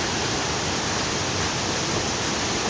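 The Toquian Las Nubes waterfall in the countryside gives off a loud, close, unbroken rush of falling water that fills the whole scene with steady hiss and roar.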